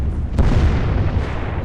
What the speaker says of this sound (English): an explosion tore through the rear fuel bunker of the Ajax